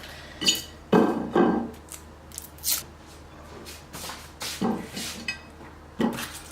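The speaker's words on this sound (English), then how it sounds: "So I'm just cutting the onions like so" A knife cuts onions in a home kitchen while making Nigerian vegan stew. There are a handful of sharp, irregular chops and knocks with some light clatter, close by and fairly quiet, and nobody speaks.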